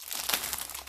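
Plastic blister wrap torn off a deck of cards, close crinkling and ripping for about a second with one louder tear in the middle and no voices.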